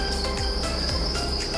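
Crickets chirp on a farm in a steady, pulsing chorus of rapid trills, fairly faint and continuous with no voices over it.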